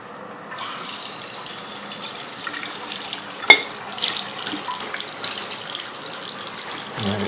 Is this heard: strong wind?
no